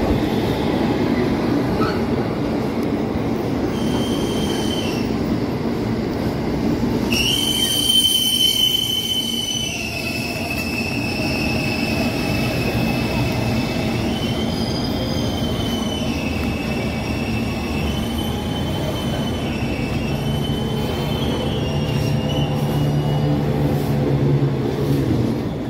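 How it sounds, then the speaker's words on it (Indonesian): A commuter train arrives and rides on toward Manggarai station at night, a loud, continuous rumble of rail cars with high, sustained wheel squeals rising and falling along the track. "Oke, kereta kita sudah tiba sob."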